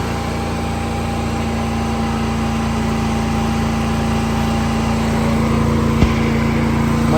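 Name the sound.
Harbor Freight Titanium wire-feed welder welding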